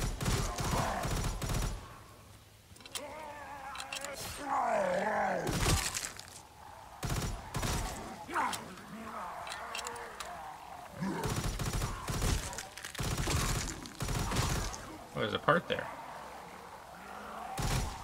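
Burst-fire gunshots sound in a WWII custom zombies map game, sharp clusters of shots scattered through the clip and mixed with someone talking over the gameplay.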